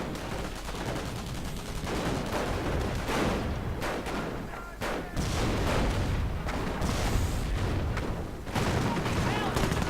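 Dense game gunfire and distant booms fill a Company of Heroes 1v1 match, rifles and machine guns crackling continuously with heavier blasts mixed in, loud throughout under a caster's voice.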